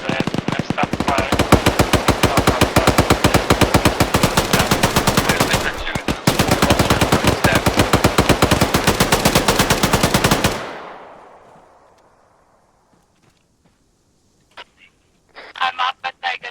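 In ArmA 3, sustained automatic gunfire rattles loud and close for about ten seconds with one brief pause, then cuts to near silence, followed by a few scattered shots and a short burst at the end.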